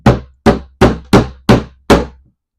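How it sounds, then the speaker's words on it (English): Six sharp hammer whacks on a broken mid-century modern drawer guide, evenly spaced about every 0.4 seconds, each a close, solid knock with a quick decay and no talking. "then I'm going to do a test whack here with the hammer"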